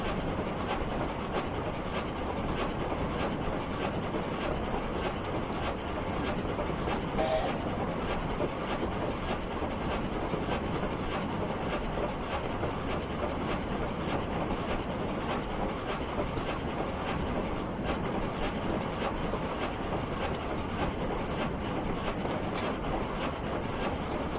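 A steam locomotive in Train Simulator Classic rolls along with a steady rumble and a continuous rattling clatter of wheels on rails. The sound stays even and constant throughout.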